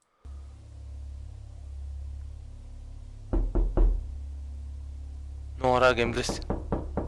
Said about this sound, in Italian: Sembra che vi bussano a casa vostra.